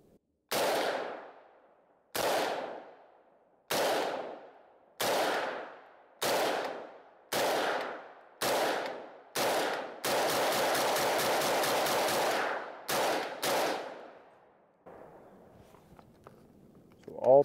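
A Bear Creek Arsenal BCA15 rifle in 300 Blackout fires loud, sharp reports at a steady pace, each ringing out into a brief decay, then a quick run of rapid shots and a few final rounds before a quiet end.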